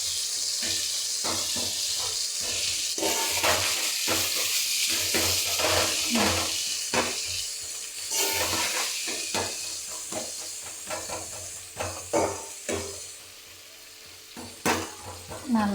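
Tomatoes sauté in a pan for a sardine fish curry (mathi meen kulambu), giving a steady close sizzle and hiss. A spoon stirs and scrapes against the pan now and then, and the frying dies down slightly near the end.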